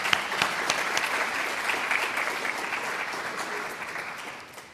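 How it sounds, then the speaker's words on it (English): Sustained applause from a graduation audience honoring community helpers at a 2018 Lenape Project Lead the Way ceremony, dense, steady clapping filling the hall for nearly five seconds without talk, fading slightly at the end. "Please give a round of applause to all the people that helped put this together"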